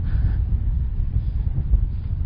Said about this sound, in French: Et donc le vent est un poil plus fort